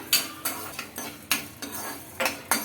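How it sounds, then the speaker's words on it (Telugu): Coriander seeds, cumin and fenugreek being fried and stirred in a pan for a broad bean masala curry, with repeated crisp scraping strokes and clinks of a utensil against the pan, close and clear, with no talking. "ఒక పావు టీ స్పూన్ మెంతులు ఇవి ఫస్ట్ ఫ్రై చేస్తున్నాం కొద్దిగా"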